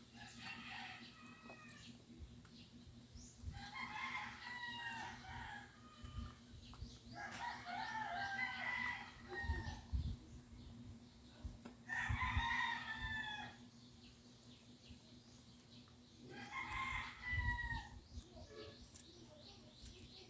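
Breeder chickens on a small poultry farm cluck and crow in repeated bursts, each a couple of seconds long, over a low steady background hum; the birds sound moderately close and no talk is heard.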